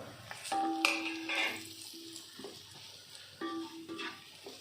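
Browned onions and spice powders frying in coconut oil for a beef curry, a quiet sizzle broken by metal spoon scrapes and clinks against the pan in short bursts.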